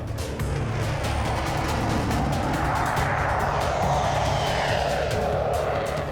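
Royal Canadian Air Force fighter jets in a simulated dogfight 10,000 feet above Cold Lake, a loud continuous engine roar with a sweeping whine that shifts in pitch, with no voices.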